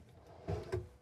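A drawer in the kitchen of a 2023 Winnebago Solis 59PX RV sliding and closing with two soft, low thumps in quick succession, faint and close.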